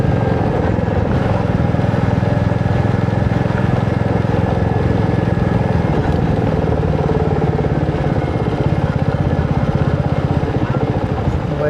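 A motorcycle engine drones steadily throughout a ride toward Hamsaladeevi near Machilipatnam, a loud continuous hum with wind rush and no pauses.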